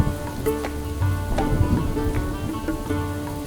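Rain falls steadily during a movie scene, a soft continuous patter with a few sharper drops standing out against a faint low hum.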